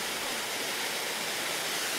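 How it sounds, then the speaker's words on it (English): A waterfall seen on a hike roars steadily and close by, a dense unbroken rush of falling water with no voices over it. "Just sat in front of this beautiful waterfall."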